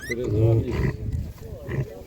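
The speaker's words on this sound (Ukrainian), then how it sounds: "Ось такі свинки." Pigs at an animal market in Ivano-Frankivsk give close, loud grunts and a squeal, mixed with people talking nearby.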